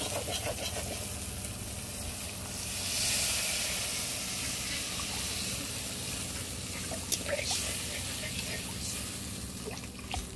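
Water poured into a pan of oil-released fried spices for a Bengali fish curry, giving a steady broad hiss and sizzle that swells briefly and then settles into continuous bubbling frying.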